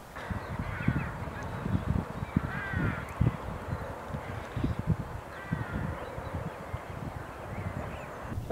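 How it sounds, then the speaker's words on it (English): A flock of migrating geese honking as they fly past overhead, repeated overlapping nasal honks and calls at moderate distance over steady wind noise. "I just had a flock of migrating geese pass by."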